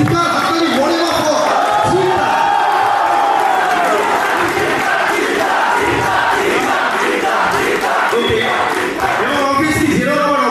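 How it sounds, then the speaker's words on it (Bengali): A large crowd at a movie trailer launch shouts and cheers loudly and continuously, with clapping mixed in and voices talking over the din. "জোরে জোরে জোরে চিৎকার, হাততালি"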